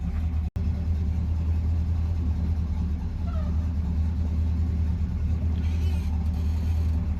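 A Chevrolet C10 pickup truck drives on the road, its engine a steady low rumble heard from inside the cab, with road noise holding at an even level throughout.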